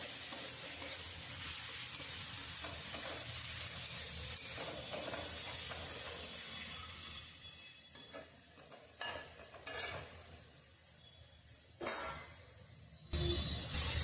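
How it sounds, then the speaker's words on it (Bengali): Chopped tomatoes sauté in a pan for mator ghugni, a steady low sizzle with soft hiss, broken near the end by several scraping stirs of a spoon against the pan. "এবার এর মধ্যে দিয়ে দেবো কেটে রাখা টমেটো। একটু নেড়ে চেড়ে ভালো করে কষিয়ে নেব।"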